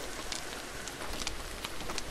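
Rain in the horror game Devour, a continuous pattering wash of drops on surfaces, fairly soft and even across the whole stretch.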